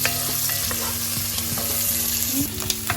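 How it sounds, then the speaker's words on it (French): Onions frying in oil in a pan, a loud continuous sizzle with crackles and occasional stirring clicks close by, no voices. "et là on va faire revenir nos oignons. Bien caramélisé."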